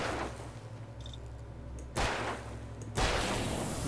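Two sharp video game gunshots in Alan Wake ring out about a second apart, each with a short echoing tail, over a low electronic hum.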